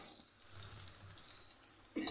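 Red chillies frying in a hot pan for a dal chawal dish, giving a steady, close-up sizzle that holds evenly throughout before a brief louder clatter at the very end.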